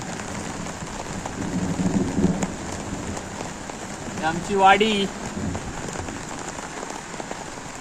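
Heavy first monsoon downpour in a Devgad village, heard from under an umbrella on a roof slab, a steady close hiss of rain with someone briefly speaking over it.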